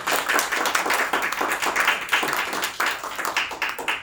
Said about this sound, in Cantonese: 喺度藉著熱烈嘅掌聲介紹多謝翻嘉賓先